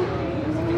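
A Ferropolis drift car with a BMW B58 turbo engine holds a loud, steady engine note at close range, a brief sustained drone with no voices.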